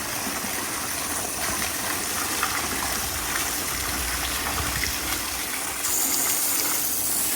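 Water running steadily through an inexpensive brass garden hose shut-off valve, a continuous broadband rushing gush at close range with slightly reduced flow, holding even throughout and rising a little near the end.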